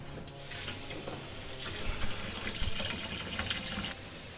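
A kitchen knife is rinsed under a running tap, a steady splashing rush of water that carries on without pause for several seconds and then stops, with no speech over it.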